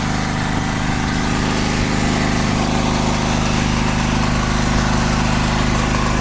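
A portable power generator runs at a steady loud engine drone with a constant low hum and buzz, close up. It plays alone for the whole span without talk.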